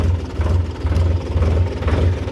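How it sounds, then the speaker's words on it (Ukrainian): A Solis RX50 mini tractor engine idles nearby with a steady low chugging pulse and light mechanical clatter, no voices. "Тихенько працює мотор."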